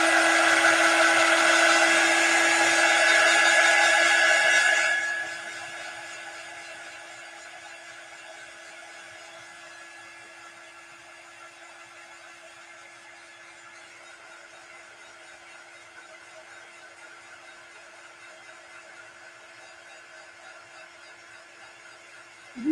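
A handheld dryer blows loudly and steadily over freshly painted Chalk Couture decor, Halloween pieces being upcycled for Valentine's Day, then drops to a softer, continuous airflow hum that runs on alone until a click at the end.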